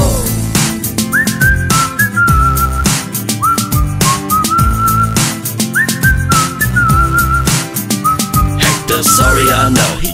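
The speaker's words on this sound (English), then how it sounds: "Gonna learn to whistle" A person whistles a bright, melodic tune in a parody song, the loud whistled line rising and sliding over a steady beat with bass and backing instruments, repeating twice.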